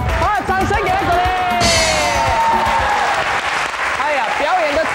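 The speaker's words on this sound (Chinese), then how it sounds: "掌声给他鼓励" An indoor audience at a high school dance-class game show claps, a dense ripple of applause under loud talk and amplified voices, with a few bright shouts rising above.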